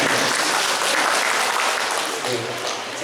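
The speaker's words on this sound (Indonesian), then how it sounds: "Tepuk tangan Bapak Ibu semuanya." An audience at a PGRI teachers' association event claps for teachers, producing dense, sustained applause that fills the room at a steady level and eases slightly toward the end, with voices faintly mixed in.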